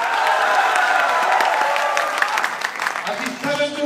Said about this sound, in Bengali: সাকিবের জন্য হাততালি দেন।